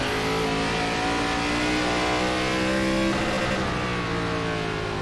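Several ARCA Series stock cars in the iRacing game at USA International jostle through a pass attempt, engines roaring loud and continuous with harmonic revs rising and dipping steadily, no voices over them.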